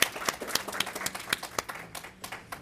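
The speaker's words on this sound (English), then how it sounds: "Please join me for another round of applause for Luis sharing his story with us." Scattered, sparse claps from a small audience after a talk at a student speaking event, individual hand claps landing irregularly and fairly quietly.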